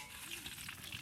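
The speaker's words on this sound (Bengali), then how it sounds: "তো তেল গরম হয়ে গেছে, ফোড়নে নিয়েছি শুকনো লঙ্কা, সরিষা" Dried chillies and mustard seeds crackle and sizzle briskly in hot oil, a dense, steady frying hiss with small pops throughout.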